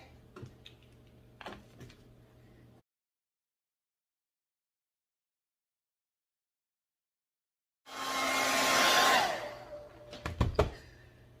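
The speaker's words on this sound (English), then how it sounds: "when you're using your hand dryer, you want to make sure that you stay a few inches away from the glass" A hand-held dryer whirs steadily for a few seconds while drying Mod Podge and glitter on a wine glass, then cuts off. Quiet handling clicks and taps come before and after, with a silent gap between.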